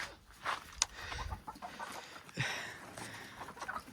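Chickens, including broody hens, cluck softly in short, scattered calls nearby in a coop, with faint rustling and a quiet background.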